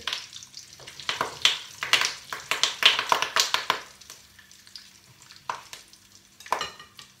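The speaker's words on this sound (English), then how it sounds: "You hear those popping bits?" Vegetables for curry sizzling and popping in hot oil in a pot, with bursts of crackling and stirring sounds that come and go.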